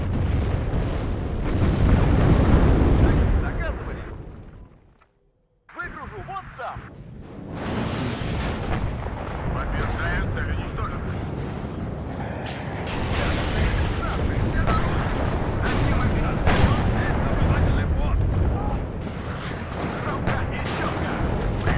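Scimitar units fire in a WARNO battle: heavy, continuous rumbling booms and blasts roll on for the whole stretch, loud and dense with one brief dip near the start, while a voice talks underneath.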